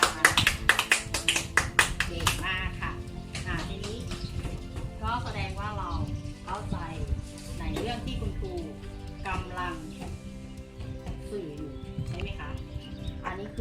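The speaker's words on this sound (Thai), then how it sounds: "ปรบมือให้ตัวเองค่ะ" A quick run of sharp hand claps opens the stretch, followed by children's voices chattering and talking over a noisy classroom.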